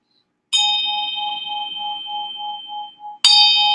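A Tibetan bell is struck twice: the first strike rings out with a bright, sustained tone that pulses as it slowly decays. A second, equally loud strike follows about three seconds later, with no talk over either.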